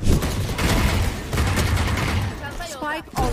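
Rapid video game gunfire crackles in bursts of overlapping shots during a competitive match, with someone talking over part of it.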